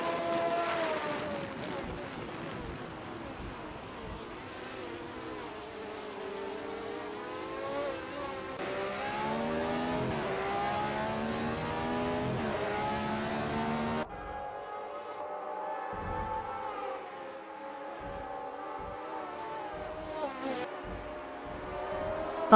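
Race car engines in a nonstop racing video game whine and rev continuously as the cars battle closely on track. The pitch rises and falls through gear changes, loud and sustained, with abrupt cuts between camera views.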